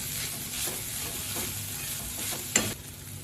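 Dry cauliflower sabzi sizzles gently in a pan while homemade black spice masala is stirred through it, quiet frying with a few spoon scrapes and one sharp clink.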